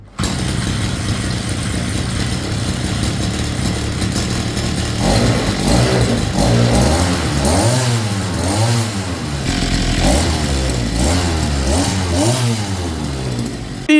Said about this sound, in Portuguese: vamos dar uma ligadinha no motor só para nós ver se o eixo ficou alinhadinho mesmo